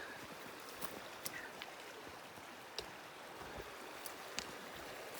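Welbourne Creek flows steadily along a backcountry trail near a bridge crossing, a soft continuous wash of water at moderate distance with a few faint clicks and taps on top.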